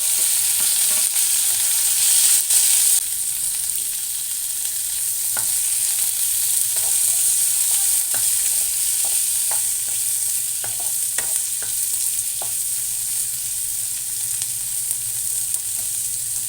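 Ginger, garlic, onions and tomatoes fry in a pan for an eggplant curry, making a steady close sizzle with occasional light stirring clicks and scrapes, no talking.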